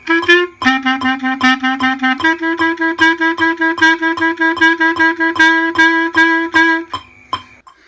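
A Bb clarinet plays a melody of short, evenly repeated notes with a few changes in pitch, clear and close, ending on a brief held tone.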